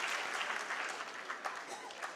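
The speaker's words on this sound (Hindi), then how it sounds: "युवाओं से आग्रह है कि थोड़ा मजबूत तालियों के साथ राजस्थान की अग्रणी होने को सराहना करें।" An audience at a World Red Cross Day ceremony in Jaipur claps in a continuous, fairly soft wash of applause heard from a little distance.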